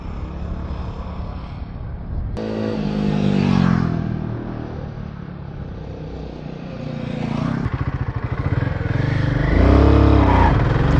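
Vehicles swerving around a sandy mountain road in India, engines revving hard with wheel spin; loud, uneven surges of engine roar that rise and fall, growing louder toward the end.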